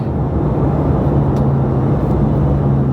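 A Porsche GT3 RS driven on a street gives a loud, steady engine drone with road roar and a constant low hum, heard from inside the car without any break.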